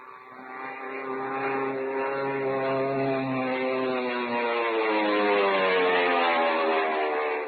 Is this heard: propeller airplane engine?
yes